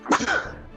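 A single sharp, close sneeze bursts out during a tabletop fantasy game session, followed by a brief trailing exhale.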